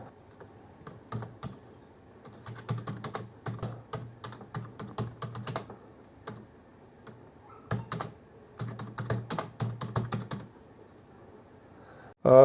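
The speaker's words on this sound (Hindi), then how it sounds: "तो अब इसको कुछ टाइप करने की कोशिश करते हैं।" Typing on a compact Logitech K230 wireless keyboard, close-up bursts of quick, light key clicks separated by short pauses, with no voices.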